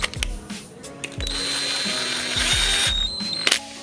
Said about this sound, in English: I'm just gonna run all these bolts down